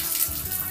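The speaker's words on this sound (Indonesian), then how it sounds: "ini langsung dari kran airnya" Tap water runs straight from a faucet while a water filter is being assembled: a short, steady, close-up gush with no talk.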